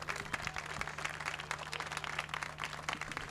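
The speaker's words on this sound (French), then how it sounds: "vos applaudissements pour le pilote de l'Opel Astra" Crowd at a motorsport prize-giving applauding a class-winning Opel Astra driver, a faint, steady patter of many hands clapping outdoors over a constant low hum.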